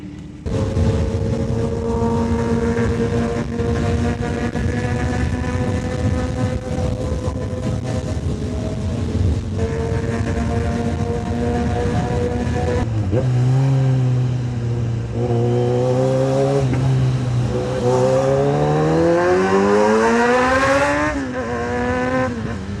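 Superbikes such as a ZX10R, Hayabusa and Z900 roar along a mountain road, loud engine notes climbing through the gears with rising and falling revs, continuous and close with no talking.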